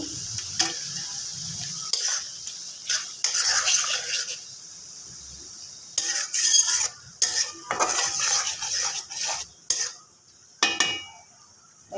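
Fish curry gravy being stirred in a pan with frozen tomato added, a spoon scraping and clinking against the metal in short irregular bursts separated by quiet gaps, with no talking.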